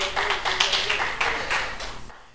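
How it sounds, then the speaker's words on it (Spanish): Applause from a church congregation, a steady burst of many hands clapping together for a couple of seconds before cutting off abruptly. "Denle un aplauso al Señor."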